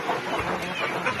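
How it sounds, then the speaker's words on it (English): Farm chickens, a mix of breeder roosters and hens, clucking as a busy jumble of overlapping calls close at hand, fairly loud and continuous. "This one is a cock. It's a hen."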